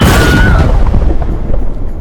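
Explosion sound effect in a tabletop RPG session, a single loud boom that decays into a rumbling tail over about two seconds.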